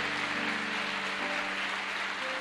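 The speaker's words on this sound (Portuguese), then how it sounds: "vamos aplaudir o Senhor pela colocação dele" A church congregation applauding during an evening service, a dense, even wash of clapping that holds steady throughout, with a faint tonal hum beneath it.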